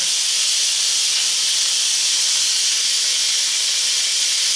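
A loud, steady rush of hissing steam venting from an Instant Pot during pressure release, constant and close throughout with no voices.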